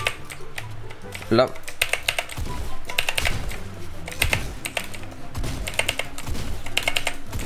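Rapid clacking keystrokes on a mini RGB gaming keyboard patter loudly and continuously up close, with someone talking briefly over the typing.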